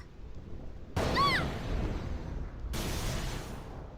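Thunder and lightning on the Thunder Plains in Final Fantasy X, two sudden loud crashes with a crackling zap, each followed by a rumbling roll over constant rain.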